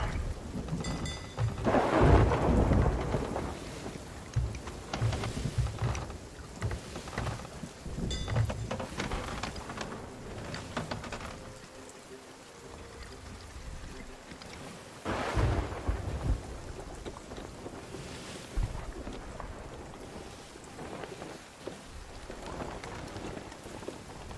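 Stormy weather on the open sea in Sea of Thieves, with heavy rain pattering steadily and deep rolling thunder rumbling in several loud swells, easing briefly mid-storm before building again.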